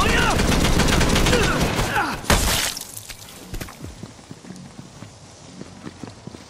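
Heavy gunfire in Borderlands 3 fills the first two seconds with dense shots and a sharp burst, then fades into scattered lighter clicks and impacts over a quieter background.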